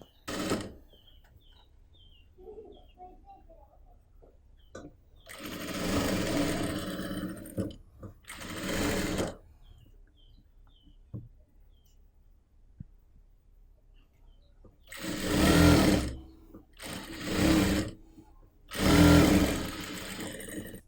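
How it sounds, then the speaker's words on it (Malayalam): A sewing machine stitches the neckline of a top at a quarter-inch seam in several bursts of steady whirring, each lasting one to two seconds, separated by quiet pauses, close and clear. "നമ്മുടെ ടോപ്പിൻ്റെ നല്ല വശം തമ്മിൽ ഇതുപോലെ അറ്റാച്ച് ചെയ്തിട്ട് നമുക്ക് നെക്കൊന്ന് 1/4 ഇഞ്ചിൽ സ്റ്റിച്ച് ചെയ്യാം."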